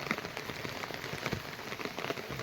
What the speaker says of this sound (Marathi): हे असंच पाऊस चालू राहिलं तर